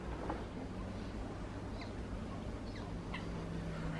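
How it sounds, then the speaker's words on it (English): A few faint, scattered duck calls from a distance during a sunny afternoon walk beside water with green algae, over steady outdoor background noise. "We've got audio evidence of a duck"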